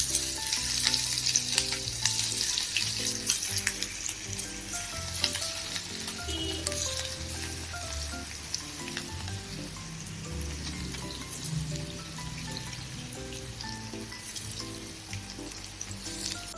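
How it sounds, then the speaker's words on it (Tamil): Chicken pieces frying in hot oil in a pan, meant to turn crispy for chicken bread rolls; a steady, dense sizzle and crackle runs loud and close throughout, with no talking. "சிக்கன் ஃப்ரை ஆகிட்டு இருக்க"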